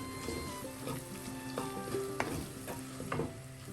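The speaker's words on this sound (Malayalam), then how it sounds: "പച്ചമണം മാറുന്നവരെ വഴറ്റാം." Spices sauté in a pan for a Kerala-style sea bass chili curry, a soft, low sizzle with a few gentle stirring scrapes over a quiet tonal background, heard briefly and faintly.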